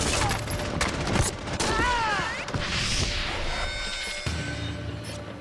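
Gunfire crackles during a shootout between police and terrorists at a military airfield, with bursts of shots and sharp cracks mixed with rushing noise, sweeping tones and general commotion.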